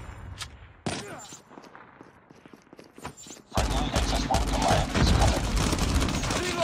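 Uzi submachine gun firing in Call of Duty Mobile multiplayer: a few isolated sharp shots and scattered pops at first, then from the middle onward a dense, loud, continuous burst of rapid automatic fire.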